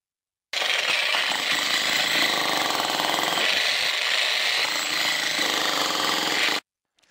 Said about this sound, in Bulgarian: След рязането, както виждате, разбиваме бетона с картач